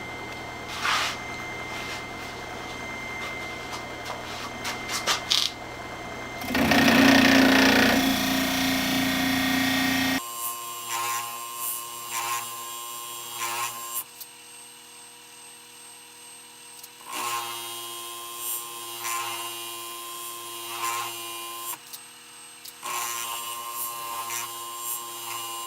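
Sanding belt running while polishing metal, a steady mechanical whir with a rougher, louder grinding stretch partway through, then a fainter hum that comes and goes.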